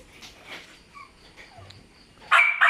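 A pet dog at an adoption home, a breed suited to stud service, whimpers and yips softly at a distance, then lets out a sudden loud bark near the end.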